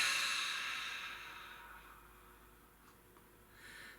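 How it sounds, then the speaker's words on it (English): A long, breathy exhale during a relaxation breathing exercise, close and airy, fading gradually before a faint second breath at the end. "and then a big exhale."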